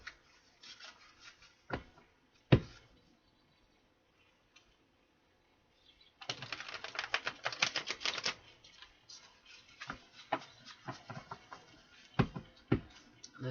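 Soft papery riffling and tapping of tarot cards, short bursts of shuffling separated by quiet pauses, close and fairly faint.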